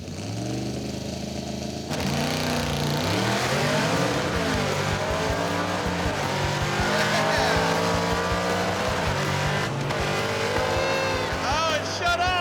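A race car launches from a 4,000 RPM leave in cold weather, its engine screaming loudly and climbing before the ignition suddenly cuts out, leaving an abrupt drop near the end; close and continuous.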